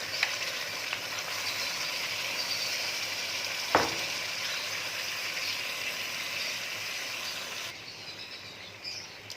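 Tomatoes and chicken sizzle in hot oil with golden-browned onions in a pan for chicken biryani, a steady, close crackling fry with a brief clank of a utensil partway through.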